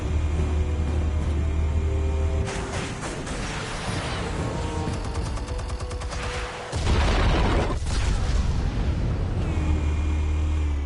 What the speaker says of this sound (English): Not the loudest explosion in the world, but I'll take it.